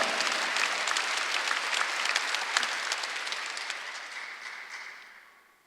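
A church congregation at a Sunday service breaks into dense, full applause that holds steady for several seconds, then thins and fades away to quiet at the end.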